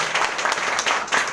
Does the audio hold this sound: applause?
yes